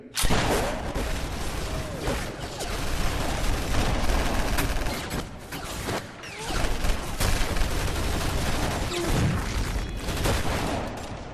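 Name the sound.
gunfire in a film scene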